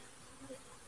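Honey bees at an open Flow Hive make a faint, steady buzzing hum during a brief moment of a hive inspection.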